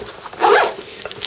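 A zip slides open on a Mil-Spec Monkey Stealth Util/Admin Pouch, one close, brisk rasping pull lasting about half a second, with faint fabric handling before and after.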